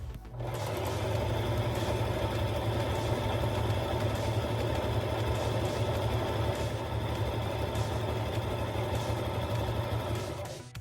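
A sewing machine stitches a drawstring backpack, running in one long steady burst with a fast, even mechanical whir and needle chatter, loud and close.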